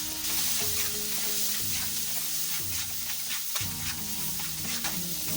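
Green chilies frying in mustard oil with asafoetida in a wok, a dense steady sizzle close by with repeated stirring and scraping strokes, and no talk.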